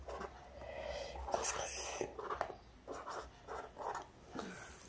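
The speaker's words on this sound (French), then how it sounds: "Et ensuite, je peux écrire avec le feutre." A felt-tip marker writes on a surface close by, giving soft, irregular squeaky strokes, with quiet murmured speech between them.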